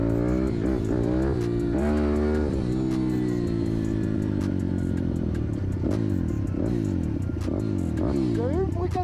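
A Varetti VR 150cc motorbike with a modified cylinder head and a stock exhaust revs hard in repeated rising and falling surges. The engine is loud and close, with some speech mixed in.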